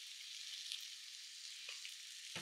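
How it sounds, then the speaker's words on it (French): Onions fry in oil in a pan for homemade burgers, a steady, bright sizzle close by and fairly quiet, with a brief knock near the end. "Si vous voyez que les oignons ne cuisent pas assez, ceux qui utilisent de l'huile, ben, moi, ce que je fais, hop, un petit peu d'huile"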